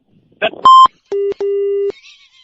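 A telephone call ends after hanging up, followed by short electronic tones: a brief higher beep, then two steadier lower beeps, clean and close.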